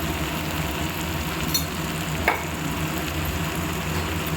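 Coriander powder and chili powder frying in oil in a pan, a steady close sizzle with a faint stir or two.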